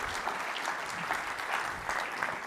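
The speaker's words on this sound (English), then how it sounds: "Everyone give Paul a big round of applause." Steady audience applause at a CEO business conference in Sydney as speaker Paul is welcomed to the stage, dense and continuous clapping throughout with no talking over it.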